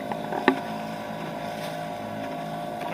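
An outboard engine mounted on a canoe runs steadily at low throttle on choppy Lake Erie, a constant droning hum with wind buffeting and a brief knock near the start.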